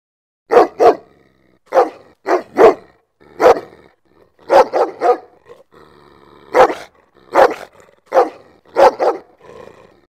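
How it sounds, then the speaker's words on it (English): A dog barking close and loud in short bursts of one to three barks, about a dozen barks in all with brief pauses between. "Dog barking."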